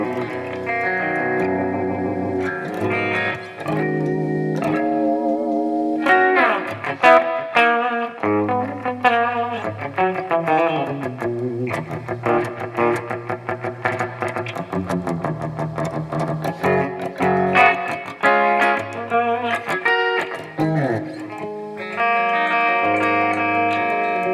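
A 1990 Charvel 650XL electric guitar with a Floyd Rose and mid-boost circuit plays through its bridge pickup. It is loud and heavily effected, with chords and fast riffs running continuously for over twenty seconds and no talking.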